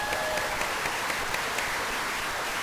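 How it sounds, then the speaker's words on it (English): Steady audience applause fills a Canine Companions assistance-dog team training graduation ceremony, a dense, even wash of many hands clapping at moderate volume with a few sharper claps standing out, lasting a few seconds. "You deserve the biggest round of applause"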